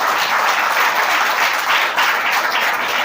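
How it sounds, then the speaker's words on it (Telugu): Church congregation clapping steadily and loudly together, a dense continuous wash of many hands with no voices on top. "చప్పట్లు కొట్టారు మీరా?"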